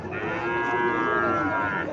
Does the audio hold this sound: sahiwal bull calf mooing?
yes